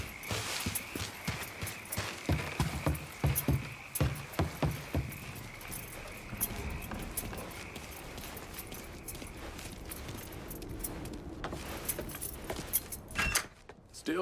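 Keys jangle in the video game Mafia 3, a loud, repeated metallic rattle in bursts over faint engine and footstep sounds.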